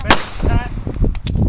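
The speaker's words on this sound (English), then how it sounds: "Fire again. Shoot! Fire!" Pistol shots fired during a self-defense shooting drill, several sharp, loud cracks in quick succession close to the microphone.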